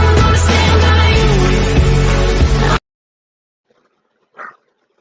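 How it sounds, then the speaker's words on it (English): A dog barks repeatedly and loudly for a few seconds, its bark mixed with other sound. Then it cuts off to near silence, broken by one faint short noise. "Oh, it's a dog."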